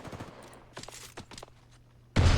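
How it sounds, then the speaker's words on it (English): Apex Legends gunfire exchanged at long range: scattered faint bursts of shots crackle through the first two seconds, then a louder, dense burst of fire cuts in at the end. "Trading some shots at a distance."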